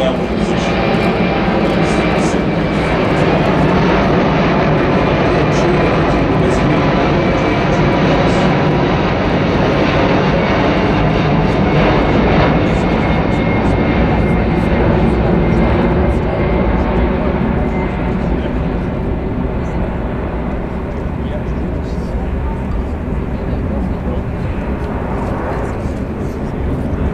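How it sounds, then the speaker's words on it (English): Airbus A380 flying past at the Farnborough airshow, a loud sustained jet engine roar that holds steady and slowly fades at the end, with a commentator talking over it. "This large aircraft drifting past."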